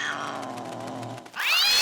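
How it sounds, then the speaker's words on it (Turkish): A cartoon cat gives a long, drawn-out caterwauling meow, then breaks into a sharp, rising, higher-pitched yowl near the end, loud and close. "Hadi kedi, hadi Mo'ya gel."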